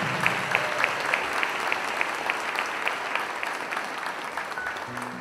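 A congregation gives a round of applause during a church sermon by a missionary, honouring a bishop. Many hands clap in an even, continuous roar from start to finish, moderately loud with crisp individual claps standing out.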